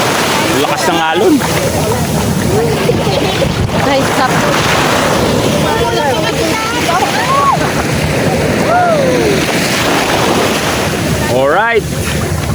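Powerful ocean waves surge and crash under heavy wind buffeting the microphone, with people talking over the roar.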